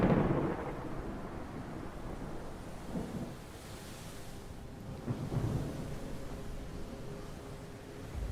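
Deep rolling thunder rumbles through a storm at sea, a steady roar of wind, rain and surf with several heavier swells of thunder rising and fading, continuous and fairly loud.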